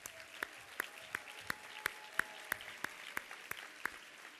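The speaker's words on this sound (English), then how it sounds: "I just want to give a round of applause to the Volunteer Florida staff" Faint, evenly spaced claps, roughly three per second, from one or a few people, ring out for the Volunteer Florida staff at an AmeriCorps 20th anniversary program, with a quiet room behind them.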